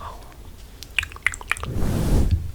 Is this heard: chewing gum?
yes